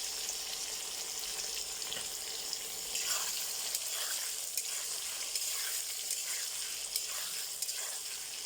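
Potatoes frying in oil with turmeric in a pan, a constant bright sizzle throughout with light stirring scrapes, close and moderately quiet.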